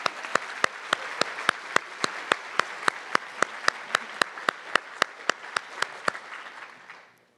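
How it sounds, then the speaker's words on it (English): Audience applauding students at a high school senior scholarship awards ceremony, a steady crowd of clapping with sharp individual claps standing out, holding level for about six seconds before tapering off. "Let's give those students a round of applause"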